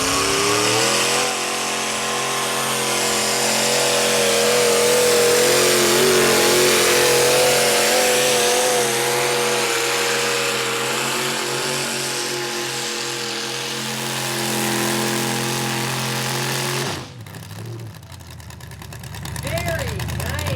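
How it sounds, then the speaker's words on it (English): A 642-horsepower V8 pulling tractor roars loudly at a tractor pull, holding a sustained, strained engine note under an announcer's voice before cutting off abruptly near the end, followed by a brief lower rumble. "this is Richard Throne, once again, a V8 tractor, 642 horse."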